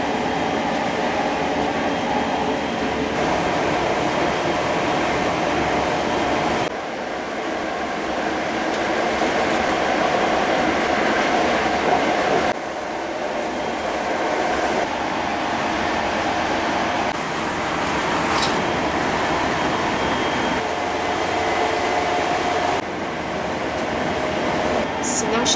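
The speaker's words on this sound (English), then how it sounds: "filming trains leaving and arriving." Trains arriving and departing at a railway platform in Devon, England, a steady rumble of rolling stock and station hum throughout, with brief squeals and clanks, fairly close and continuous.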